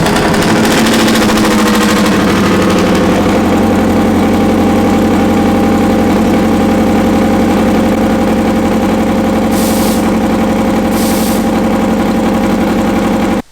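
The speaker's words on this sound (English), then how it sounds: "And that engine, it just sounds awesome." A radial aircraft engine in a nitrous Porsche 356 Outlaw cranks and catches in the first couple of seconds, then settles into a steady, loud, rumbling idle with a constant low throb.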